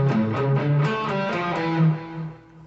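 A clean or lightly effected electric guitar plays a song riff for under three seconds, a run of picked notes with sustained tones that ring out and fade at the end, with no talking.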